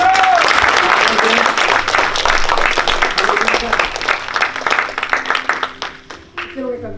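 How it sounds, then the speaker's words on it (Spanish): A church congregation claps in loud sustained applause at a service, dense and close, with voices calling out over it before the clapping thins and fades toward the end. "¿Cuánto le damos palmas al Rey?"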